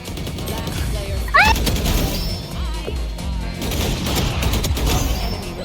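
Gunfire in Valorant rings out as bursts of sharp shots over a dense mix of game effects, with players talking over the action.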